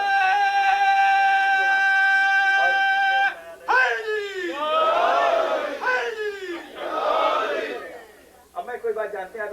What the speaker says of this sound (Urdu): ہاں نعرہ وعرہ لگے تو اچھا لگتا ہے نا